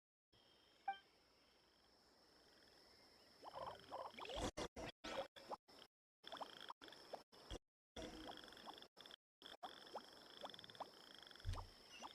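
Frogs croak and crickets chirp in a Genshin Impact game scene, a steady high insect trill running throughout with repeated frog croaks, a busy stretch of calls through the middle.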